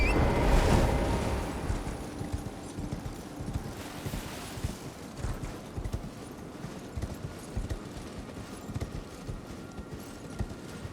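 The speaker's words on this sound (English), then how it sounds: "Surprised I can use my horse here." Horse hooves clip-clopping in the video game Elden Ring, a steady mounted gallop rhythm running throughout with wind-like background noise, loudest at the start, no talking.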